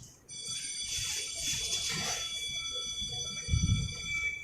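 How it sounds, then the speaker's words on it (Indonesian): A high electronic school bell rings steadily and continuously, signalling the start of class, with a dull low thump near the end. "Akhirnya bel masuk kelas pun berdering"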